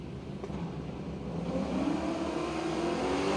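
Drag race cars launch side by side down the strip at Willowbank Raceway, an HK wagon in the left lane against a 780 in the right, a steady engine roar building and rising in pitch, close and loud, with no talk.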